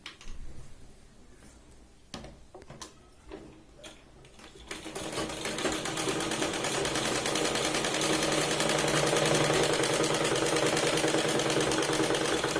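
A sewing machine stitches the seams of a large-size Punjabi top, running in reverse from a second point. It starts with a few short bursts, then settles into a steady, continuous whirring run at close range with no voices.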